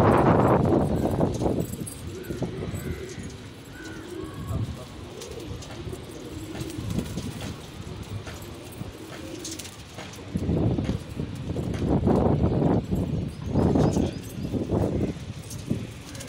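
Lodhi pigeons cooing in soft repeated bursts, close by, with quiet rustling and a brief murmur of voices between the calls.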